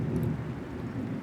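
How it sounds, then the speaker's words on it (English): Thunder from a storm in the cricket video game Cricket 24, a brief low rolling rumble with rain-like hiss, steady and moderately loud throughout the short stretch. "Ooh, we got thunder with us. The storms are here."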